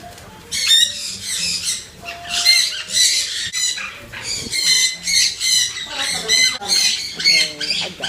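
Birds squawk loudly and repeatedly inside a bird cafe in Tokyo, dense overlapping shrill calls with some wing flutter, close by, while a person's voice is heard among them.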